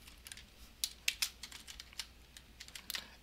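Fingers tap out a short burst of typing on a computer keyboard, uneven clicks close by and soft against a quiet background, with no one talking.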